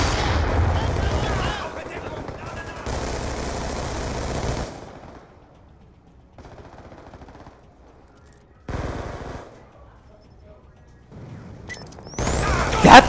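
Gunfire in Call of Duty Black Ops 2 multiplayer on Xbox 360, with sniper rifle shots among loud bursts of weapon fire, some stretches dense and sustained, others quieter, ending in a sharp loud crack.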